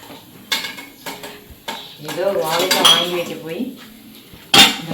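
Metal utensils scrape and clink against a pan while oil sizzles as fritters fry, with a brief voice partway through and a sharp clatter near the end.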